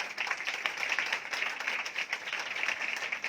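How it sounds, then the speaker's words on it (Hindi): A church congregation applauds loudly with dense, continuous clapping from many hands that stays at an even level throughout. "आए पाकरू के लिए जोरदार तालियां"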